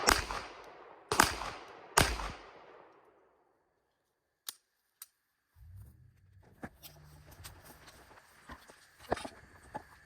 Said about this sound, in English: these are going to be the first few rounds out of the mini red dot from Primary Arms